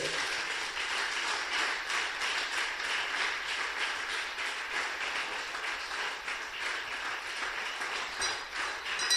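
A church congregation applauding to acclaim the Lord, dense sustained clapping from many hands filling the room for several seconds, with no voices over it.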